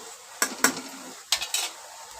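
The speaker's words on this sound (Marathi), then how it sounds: "आता याच्यामध्ये हा टमाटर घालून घेते मी" Tomatoes stirred into red-fried onion in a pan give a faint sizzle under four sharp scraping strokes of a spoon, coming in two quick pairs close by.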